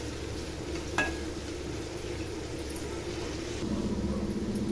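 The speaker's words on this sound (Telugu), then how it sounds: "పచ్చిరొయ్యలు కూడా ఆనియన్స్ కూడా ఫ్రై అవుతున్నాయి" Raw prawns and chopped onions fry in a pan for a vegetable curry, giving a steady, dense sizzle throughout. One light clink of a utensil comes early, and the frying grows slightly louder toward the end.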